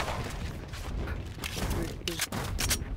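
Shotgun blasts in the Valorant tactical shooter, loud booming shots mixed with other gunfire and game effects over about three seconds, with a player talking over the action.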